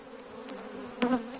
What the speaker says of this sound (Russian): Тут пчелка ремонтирует рамочку.